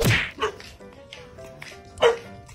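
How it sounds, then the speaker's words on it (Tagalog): A dog barks several times in quick, uneven bursts, fairly close, with a few higher yips mixed in. "Ay, aso."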